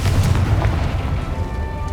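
A Confringo explosive spell blast from Hogwarts Legacy, a single deep booming burst with heavy low rumble that fills the short moment and fades slightly.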